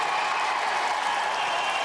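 A studio audience of supporters cheers and applauds at a televised sports contest, a dense, steady roar of clapping and cheering that carries evenly from start to finish.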